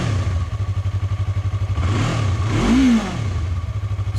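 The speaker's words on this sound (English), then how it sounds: "Sounds like your regular twin cylinder beginner bike." Yamaha R3 twin-cylinder beginner motorcycle idling with a steady close pulsing throb, then one quick rev that climbs and falls before settling back to idle.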